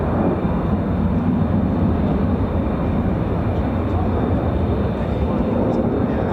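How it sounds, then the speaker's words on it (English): US Air Force F-22, F-15E Strike Eagle and F-35A fighter jets fly near the 48th Fighter Wing base at RAF Lakenheath, making a loud, constant rumbling roar that fills the whole stretch without letting up. "For a non-air show, we have F-22s, F-15E Strike Eagles, and F-35As."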